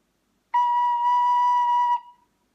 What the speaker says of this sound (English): when you play the tin whistle, you're just going to play with whisper air